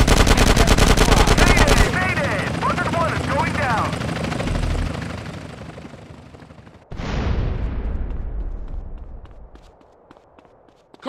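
Helicopter and gunfire in Grand Theft Auto: San Andreas – The Definitive Edition, loud rapid bursts of machine-gun fire over a thudding rotor, then a sudden sharp blast and decaying rumble with scattered shots, under shouted voices.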